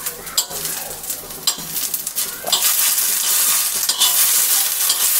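Ginger garlic paste is stirred in a nonstick frying pan, producing a bright hissing sizzle with scraping utensil clinks and scrapes against the pan, close up.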